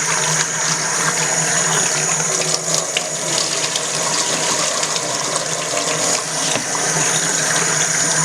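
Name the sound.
washing brown rice with running water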